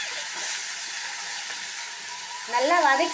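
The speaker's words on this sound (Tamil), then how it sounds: "இப்போது எல்லாத்தையும் ஒன்றா சேர்த்து நல்லா வதக்கி" Bottle gourd chutney ingredients sauté together in a hot pan, giving a steady close sizzle with light stirring. A brief tonal sound rises over it near the end.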